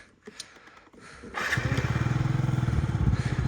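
A Yamaha Jog SA36 fuel-injected scooter engine catches after a few quiet clicks and settles into a steady, close, throbbing idle.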